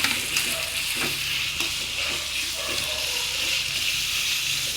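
Prawns coated in masala fry in oil with a steady close sizzle and crackle, broken by occasional stirring scrapes and spits, with no talking.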